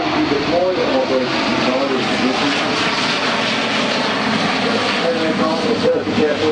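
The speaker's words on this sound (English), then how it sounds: "listen to the sound of this lovely classic aircraft, the Avro Anson, getting airborne now" Classic Avro Anson aircraft taking off at Farnborough Airshow 2014, its engines a steady, loud droning roar that holds throughout, heard under a commentator talking over a public address.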